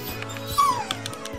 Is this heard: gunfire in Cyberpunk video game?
no